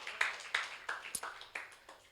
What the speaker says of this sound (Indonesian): Kita kasih tepuk tangan untuk Tuhan yang luar biasa.